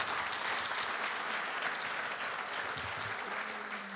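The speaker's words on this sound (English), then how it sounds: "Give a round of applause to our folks here at the Village Theater." Sustained audience applause fills the Village Theater during a township's annual State of the Township event, a steady dense wash of clapping at moderate level with no voices over it.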